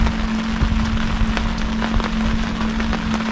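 Rain falls steadily on a fishing spot at night, a dense constant patter with scattered sharper drops and a low steady hum underneath, no voices.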